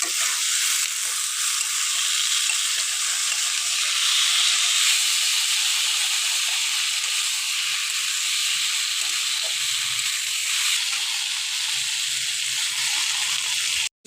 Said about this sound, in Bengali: এই মটরটাকে আমি ভালো করে ভেজে কষিয়ে নিতে হবে